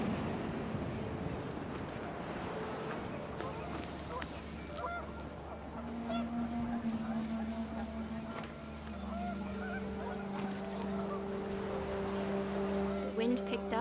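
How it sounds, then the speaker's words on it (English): Panicked geese in the video game What Remains of Edith Finch honk repeatedly in a cluster over windy outdoor ambience and background rumble, moderately faint, under a narrator's voice. "The wind picked up, and panicked geese appeared and quickly went"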